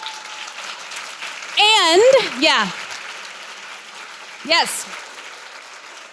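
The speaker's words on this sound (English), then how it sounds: "So a round of applause for everyone." Applause at a women in business chamber of commerce breakfast, a continuous patter of clapping under someone talking with brief voiced bursts.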